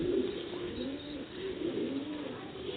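Batere Ali pigeons coo softly in a low, rolling murmur, several soft calls overlapping at a moderate distance with no talking.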